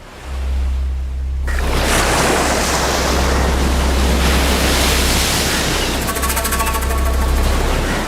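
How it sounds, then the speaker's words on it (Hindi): Rough open sea with heavy waves surging and crashing in a continuous loud roar, mixed with strong wind buffeting, heard from on or near the water. "समंदर बड़े गुस्से में है।"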